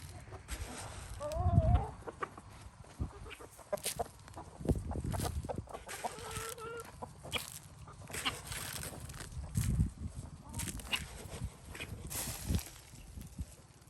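Chickens cluck and squawk close by, with scattered fowl calls and some rustling and knocking in the background.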